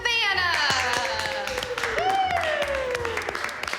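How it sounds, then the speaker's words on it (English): Studio audience applause for a contestant on a reality show, steady clapping throughout with bright musical tones and swooping effects layered over it. "give a big round of applause for our contestant, Savannah"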